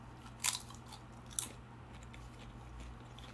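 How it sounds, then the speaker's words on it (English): Two sharp, brief crunches of barbecue chips being bitten and chewed close to the mic, about a second apart, over a quiet low background hum. "Now I'm eating some barbecue chips so you get to hear those nice crunches."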